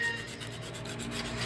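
Coarse sandpaper rubbed steadily back and forth across a surface while working on a voltage stabilizer, a close, continuous rasping scrape with no pauses.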